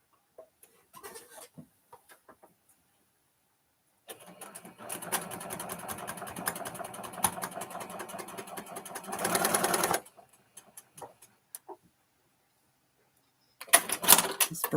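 A sewing machine stitches in a few short bursts, then runs loudly and steadily for about six seconds before stopping when the thread breaks. Another brief burst of stitching follows near the end.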